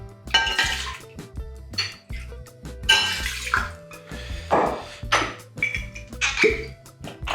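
Two large shots of vodka, about 100 ml, are poured for an Agua de Valencia cocktail, heard as repeated splashing pours and plops with light glass clinks, close and moderately loud, with short pauses between them.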